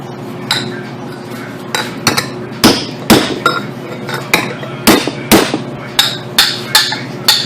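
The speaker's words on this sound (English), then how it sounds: "so I can whack it with a hammer" Sharp metallic hammer strikes on a homemade seal installer during a Toyota Camry automatic transmission install ring out one after another, about a dozen hits in a loose, uneven rhythm, loud and close with a clanging edge.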